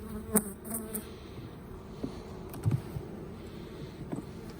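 Honeybees buzz faintly around an open hive at a farm, a soft continuous drone broken by a few brief clicks and knocks from handling the hive.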